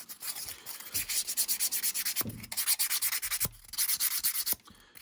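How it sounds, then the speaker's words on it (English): Fine grit sandpaper rubs along the edges of a wooden piece in quick back-and-forth strokes, a close, steady scratchy hiss broken by a few brief pauses, with no talking. "I usually take a little piece of fine grit sandpaper, and I just soften all the edges"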